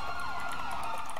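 An emergency vehicle siren wails during a chase, a loud rising and falling tone close by, sounding alone.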